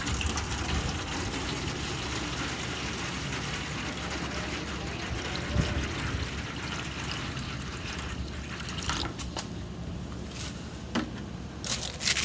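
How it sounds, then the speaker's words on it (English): Water poured into the drip tray of a Napoleon kettle grill loaded with coals for a long brisket cook, a steady running trickle and splash with a few sharp clinks near the end. "I'm just going to put some water in the tray."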